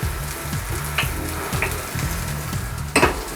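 Onions, garlic and ginger fry in a pan for a curry, a close, steady sizzle broken by a few sharp stirring scrapes and clinks, with no talking.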